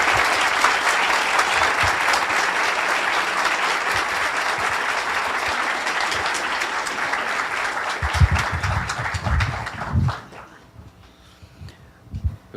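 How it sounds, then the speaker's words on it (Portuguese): Loud, sustained applause from a lecture audience greeting a professor, dense clapping that holds steady and then breaks into scattered claps and thumps before fading to near quiet. "Queria que vocês recebessem com uma salva de palmas o professor Gustavo Franco"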